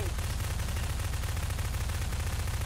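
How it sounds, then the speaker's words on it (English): Rapid, continuous gunfire in the Prop Hunt video game, a steady dense rattle of shots running loud and unbroken from start to finish, like two players standing and firing at each other nonstop. "Just two idiots. Just standing shooting at each other."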